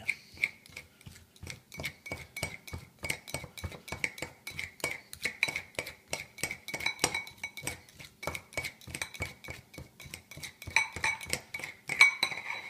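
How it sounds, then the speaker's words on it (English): Two knives chop food on a cutting board in a fast, steady rhythm of sharp clicking strikes, close and continuous with no talking, picking up slightly toward the end. "What I'm going to do is I'm going to slice and dice."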